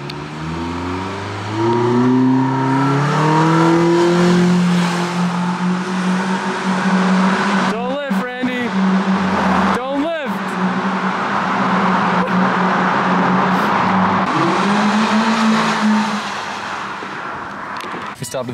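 A rental car engine with its airbox removed revs loudly and climbs through rising pitch as it accelerates hard, with sharp shifts in between, then settles into a steady drone.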